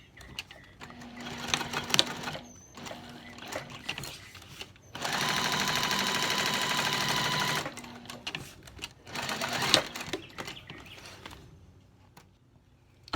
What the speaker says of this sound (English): we're going to stitch up the folded edge to complete this card panel